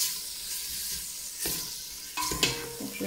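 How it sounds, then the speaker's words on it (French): Meat and onions sizzle steadily in a hot pan over medium heat, a continuous close frying hiss with a few sharper crackles and stirring scrapes toward the end. "je vais faire revenir la viande avec les oignons"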